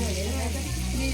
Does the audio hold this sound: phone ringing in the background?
no